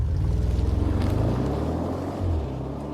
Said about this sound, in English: twin-turbo 4-litre TFSI V8 burbles into life with a potent rumble